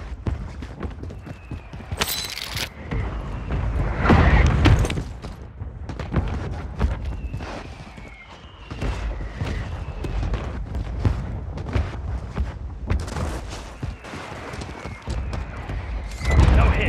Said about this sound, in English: Requesting fire mission! Target marked! Copy your mark. Mortar strike inbound.